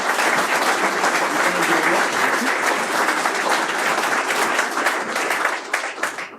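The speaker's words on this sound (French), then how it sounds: "Merci, donc on peut l'applaudir." Audience applause at a property development awards ceremony, a loud, sustained round of clapping from a large crowd, dense and even throughout before thinning slightly at the close.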